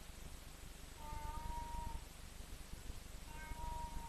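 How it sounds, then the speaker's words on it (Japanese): A cat meows twice, two drawn-out cries heard at moderate distance over a steady background hum, with no talking. "猫も泣いてるわ。"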